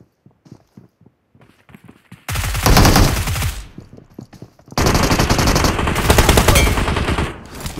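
Dense bursts of automatic gunfire in a competitive mobile shooter game, with light clicky steps before two long, loud, rapid volleys and no talking over them.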